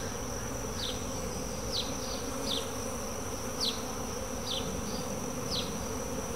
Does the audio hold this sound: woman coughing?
no